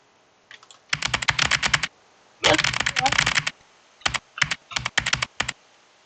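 A computer keyboard, set up to mimic a mechanical keyboard's sound, clatters in close, crisp bursts of rapid key clicks, followed by a few spaced single presses.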